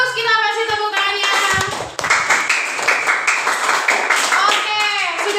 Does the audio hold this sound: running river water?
no